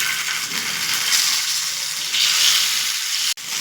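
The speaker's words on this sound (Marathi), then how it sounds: "मी मिरच्या तेलात थोड्याशा तेलात टाकून घेतल्यात बघा शेलो फ्राय करते मी" Stuffed green chillies shallow frying in a little oil, a loud, even hiss of sizzling close up that runs throughout, ending with a single sharp tap.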